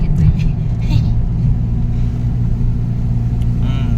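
A car drives along a muddy jungle hill road in rural Konkan, its engine giving a steady low rumble with some revving, while people talk over it.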